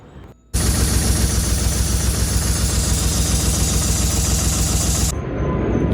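2007 Honda VFR800 motorcycle engine starting abruptly and running, a loud steady pulsing thrum held for about five seconds before easing to a lower idle, close and with no talk.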